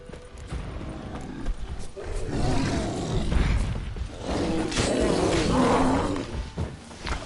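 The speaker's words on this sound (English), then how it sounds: "Bear." A bear in Witcher 3 lets out long, rough growling roars in swelling waves over the game's ambient noise, loud and close.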